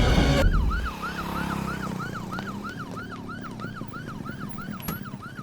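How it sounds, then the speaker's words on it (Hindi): An ambulance siren wails in a steady, rapid up-and-down cycle at a road junction accident scene, following a brief loud burst of noise at the start. "प्लीज जल्दी यहाँ एम्बुलेंस भेजिए।"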